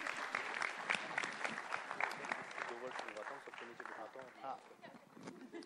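An audience applauds actress Alia Bhatt at a film trailer launch, scattered clapping and cheering mixed with a loud host voice and crowd chatter over the top.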